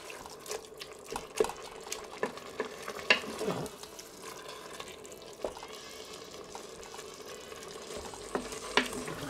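Vegetables and minced meat browning in a Cookeo multicooker: a quiet, close sizzle with irregular scraping and stirring clacks of a utensil against the pot, some wet spattering, with no talking.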